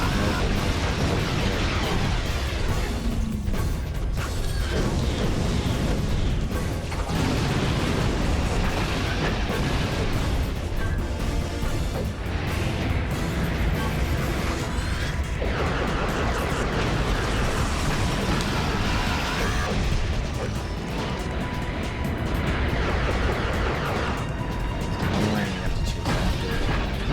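In Ratchet and Clank 2, dense enemy gunfire and explosions blast without pause, loud crashes and booms piled over a constant roar of game music and effects.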